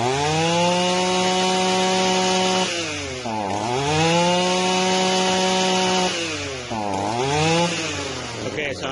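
An Echo 225 string trimmer's small two-stroke engine runs loud and close with the choke on, idling steadily, then dipping and recovering twice as it nearly stalls.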